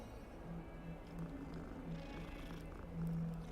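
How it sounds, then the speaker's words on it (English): A cat character in a Harry Potter video game purrs softly in a low, rhythmic rumble, faint and steady under quiet game ambience. "Are you seeing this cat?"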